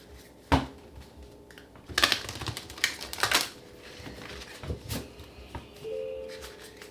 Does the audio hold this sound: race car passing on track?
no